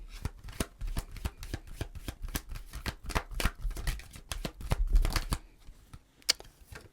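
Tarot cards are shuffled up close in quick, crisp, uneven flicks and riffles that stop after about five seconds, followed by a few soft taps.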